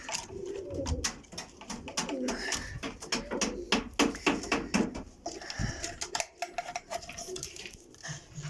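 Red-eyed pigeons from Lahore at a breeding setup in Kotli, Azad Kashmir, coo in soft repeated bursts, with wing flutters and clatter, under a voice talking nearby.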